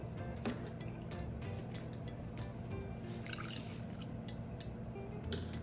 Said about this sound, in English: So I'm adding about 2 cups of water.